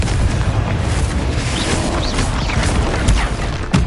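Confringo spell explosion in the Hogwarts Legacy video game, a loud, dense, sustained blast with crackling, rumbling debris throughout.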